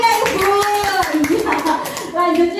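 Hands clap in a brisk, steady round of applause from a nearby group in a kindergarten classroom, with children's voices chattering over it throughout.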